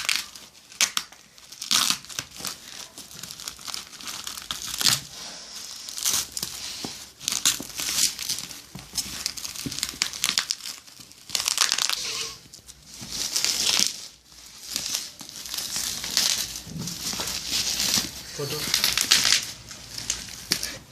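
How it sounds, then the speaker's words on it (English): Packaging on a TORO roti maker crinkles and tears in bursts of crisp rustling and ripping with short pauses, handled close by, without spoken words. "Today we are unboxing our roti maker."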